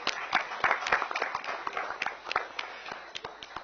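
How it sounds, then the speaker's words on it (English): Scattered applause from an audience at a PSL press conference honouring the franchise owners, a moderate patter of clapping that holds steady throughout. "let's have a round of applause for all the franchise owners"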